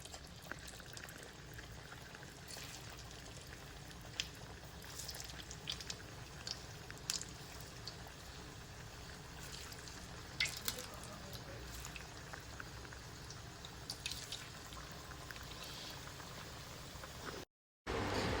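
Sabudana-style vadas deep frying in hot oil, a steady faint bubbling sizzle with scattered crackles and pops, continuous throughout with a brief dropout near the end.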